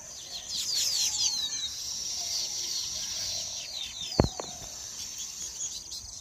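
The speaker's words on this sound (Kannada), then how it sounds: "ಚಿಲಿಪಿಲಿ ಅಂತ ಹಕ್ಕಿಗಳ ಸೌಂಡ್ ನೋಡಿ ಎಷ್ಟು ಚೆನ್ನಾಗಿದೆ" Birds chirp outdoors in the morning, a sparkle of high, quick calls that is faint and fairly distant over soft steady background noise, with a sharp knock partway through.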